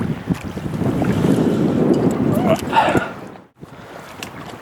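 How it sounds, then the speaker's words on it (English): Wind gusts across a high country lake, a loud, close rumbling buffet of wind noise on the microphone with lapping water beneath, easing briefly near the end before rising again. "Wind's picked up again, but it's been doing that all day and dropping off."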